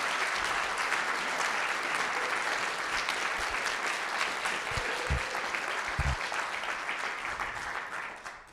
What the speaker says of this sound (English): so if I could ask you to clap.